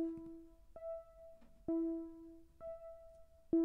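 A basic saw-wave synth set two octaves up plays short sustained notes, alternating between two pitches about once a second, each with a sharp attack, bright and clean with no voices.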